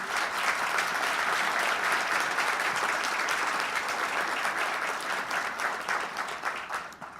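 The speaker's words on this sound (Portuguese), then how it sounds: "peço uma salva de palmas." Sustained applause from a large audience at the opening ceremony of a national congress (XXIV CNPT), honoring longtime collaborators; dense, even clapping that holds steady for several seconds before slowly thinning.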